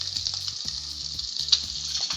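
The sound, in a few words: bacon frying in a pan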